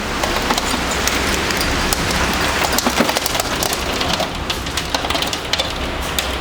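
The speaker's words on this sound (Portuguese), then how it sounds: "por conta da chuva, por conta da barulheira, também vou ter que parar de gravar esse vídeo para vocês." Heavy rain mixed with hail pours down as a loud, continuous hiss, with sharp scattered ticks and clatters of hailstones striking surfaces nearby.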